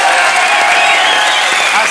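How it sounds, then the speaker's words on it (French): A television game show studio audience claps for a winning contestant, dense, loud, sustained applause filling the whole short moment. "on applaudit Guy Luc"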